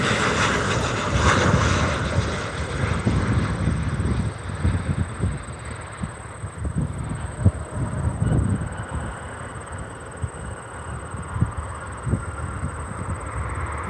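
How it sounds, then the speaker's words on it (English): A United Boeing 737 in 2019 livery at Albany International Airport gives a steady, broad engine roar that rolls on without a break at moderate distance, with no talking. "United in a 2019 livery in a 737, a small 737."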